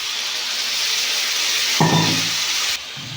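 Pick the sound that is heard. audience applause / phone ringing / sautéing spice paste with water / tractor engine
sautéing spice paste with water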